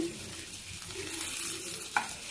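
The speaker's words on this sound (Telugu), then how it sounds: "ఇలా తిప్పుకోండి కాకరకాయ విడిపోకుండా వేగుతుంది" Stuffed bitter gourd shallow-frying in oil in a pan, a steady close sizzle with soft scraping as the pieces are turned, and a brief clink of the utensil near the end.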